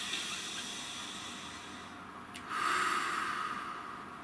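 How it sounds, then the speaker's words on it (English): One slow, deep breath, a soft airy hiss that swells into a louder exhale near the end, heard close and alone. "Nice deep breath."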